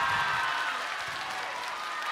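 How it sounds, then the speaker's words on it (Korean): Dense, steady applause from a high school audience at a disability-awareness music performance, continuous clapping filling the whole moment with faint crowd voices mixed in. "퇴장할 때 너무너무 멋있었다고 큰 박수 부탁드립니다"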